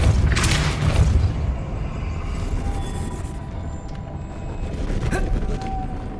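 A Depulso spell in Hogwarts Legacy lets off a deep booming blast, loud and close, followed by rumbling tails and a second softer burst.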